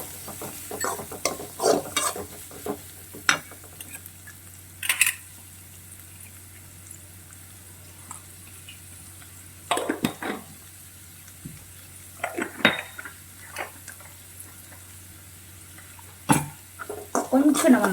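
Onions sautéing in a pan with crushed coriander seeds and salt, a soft sizzle broken by scattered stirring scrapes and clatters. A low steady hum runs throughout, and someone talks at times.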